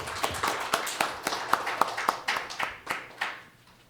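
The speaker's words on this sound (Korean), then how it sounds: "큰 박수 부탁드립니다." Sparse audience clapping at a Korean academic conference, with distinct individual claps in an uneven rhythm, moderately close, gradually thinning out toward the end.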